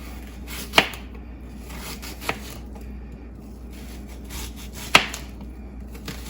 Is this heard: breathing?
no